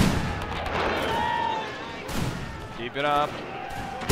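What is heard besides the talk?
enemy troops firing back in a war strategy video game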